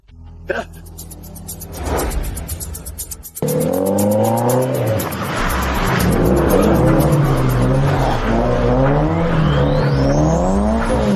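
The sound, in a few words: stunt race car driving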